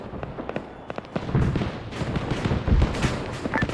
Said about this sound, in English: Those Shilkas lighting up that striker.